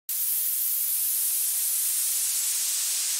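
A white noise filter sweep effect used as an uplifter and downlifter, starting abruptly as a loud, steady hiss whose brightness slowly shifts, with no voices.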